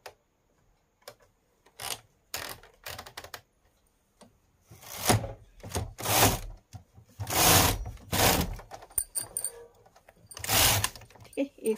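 Sewing machine stitching a border for a gent's zipper, running in short uneven bursts of rapid clatter with pauses between them.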